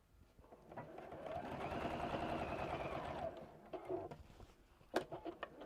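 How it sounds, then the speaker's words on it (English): A sewing machine stitches across fabric in one sustained mechanical whirring run lasting a few seconds, then a few short bursts and clicks as it slows and stops. "So I'm just going to sew across there."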